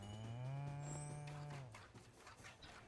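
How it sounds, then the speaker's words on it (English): Cow mooing in the farming game Spiritfarer, one long, clear, low moo lasting over a second, then fading into quiet background sounds. "And then I guess I need to check on my cow, because it mooed."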